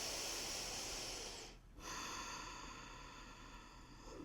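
A single long, deep inhalation during a neck stretch in a morning stretching routine, close and airy, with a brief pause before the breath continues softly.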